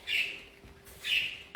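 Two harsh, raspy budgie squawks, separated by a short pause, come from a little way off against a quiet background.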